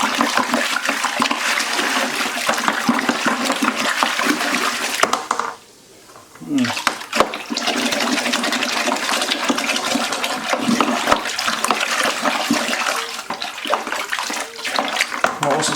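Hot tap water gushing steadily from a kitchen faucet while making strawberry cider, a continuous broadband rush that cuts off briefly midway before resuming, with faint clinks and a voice speaking underneath.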